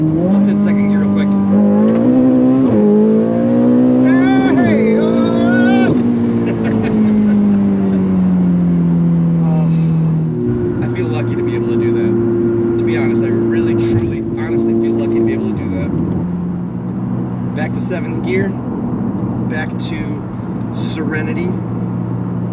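A tuned Ferrari 488 GTB twin-turbo accelerates hard, its engine note climbing through quick gear shifts, then holding a steady high drone before dropping back, heard loud from inside the car.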